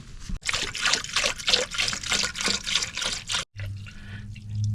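Green antifreeze coolant poured from a jug into a newly recored radiator, a close, steady glugging trickle with a rhythmic gurgle that stops abruptly, then a low hum continues.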